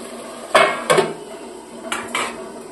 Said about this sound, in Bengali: ঢাকা খুলে দিচ্ছি।